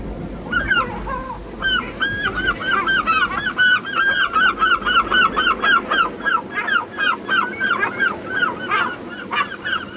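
Seabirds at Mewstone Rock call during courtship, a dense colony of repeated honking, goose-like cries in quick rhythmic bursts, loud and close, over a low rumble of surf.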